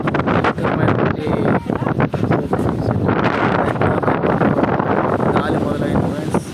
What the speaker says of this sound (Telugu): గాలి మొదలైంది.